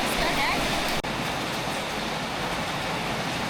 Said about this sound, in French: mais la pluie est revenue